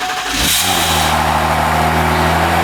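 A car engine in a Dubai garage cranks, catches and settles into a loud, close, rising rev, steady and unbroken with no talking.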